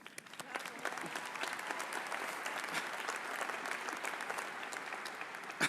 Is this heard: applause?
yes